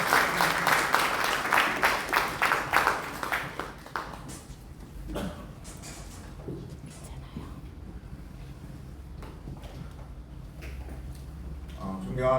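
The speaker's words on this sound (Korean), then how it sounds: "회장님을 큰 박수로 모시겠습니다." A New Zealand advisory council inaugural meeting audience claps to welcome the council chairman, strong applause for about four seconds before fading into quiet room tone with a few scattered claps.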